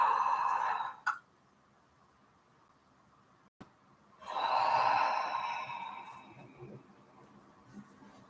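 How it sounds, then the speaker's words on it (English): A person makes a slow, drawn-out yawn as part of a desk stretch for the head and neck, with the jaw stretched wide. A breathy exhale comes first, then a longer, swelling yawn that fades out. It is close and there are no words. "Yawning is a great way to get more oxygen in. Stretch out the jaw a little bit."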